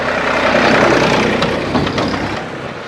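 A heavy diesel tractor engine rumbles close by, a steady low throbbing that swells briefly as it approaches and then eases slightly.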